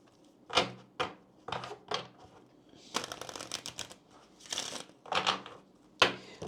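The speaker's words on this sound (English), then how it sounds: "let's take a look at the Kipper cards here" A deck of Kipper fortune-telling cards being shuffled up close in repeated riffling bursts, each a crisp flurry of card slaps separated by brief pauses, with no voice over it.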